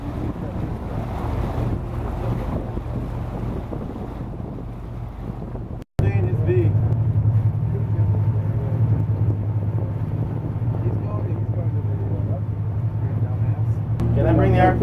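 Houseboat engine running steadily on Lake Powell, a constant low drone mixed with wind buffeting and water noise, with people talking over it.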